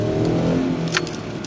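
A 2011 Ford Edge V6 revs up with a cylinder misfire, its steady, loud engine drone holding close by with slight unevenness before easing off.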